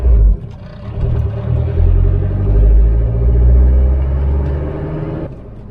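A car that is not a luxury vehicle drives down a road, its engine rumbling loud and close with a low steady drone that swells and eases as it moves, then drops off near the end.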